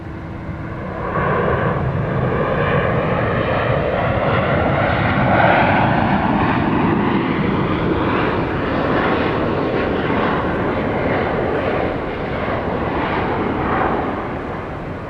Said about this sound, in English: Flight 4278 from Orlando, 737-800 is, we're about to see it right there.